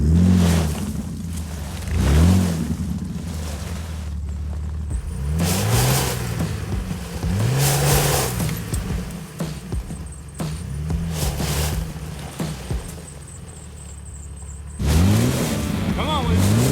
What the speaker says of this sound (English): I am going to kind of gas it, you know, and initiate that wheel spin so I can get buried.